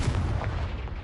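An explosive fire spell cast in the fantasy video game Hogwarts Legacy bursts in a single dense, low rumbling blast that fills the short moment at close range, with no talking.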